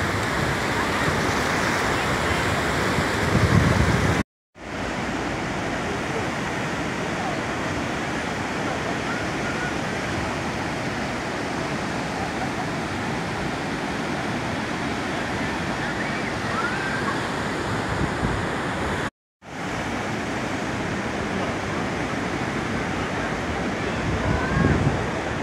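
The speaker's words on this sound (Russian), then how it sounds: "Вообще пляж бесконечный, он идет на километры." Sea waves roll continuously onto a long sandy beach in Da Nang, Vietnam, a broad steady surf roar with wind buffeting the microphone, alone without talk.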